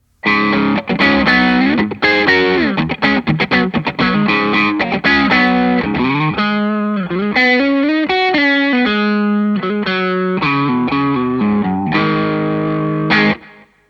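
An electric guitar riff through an Analog Man 1997 brown mod Tube Screamer overdrive pedal plays loud and up close, quick chugging notes giving way to sustained bends and held chords, with a warm crunchy distortion.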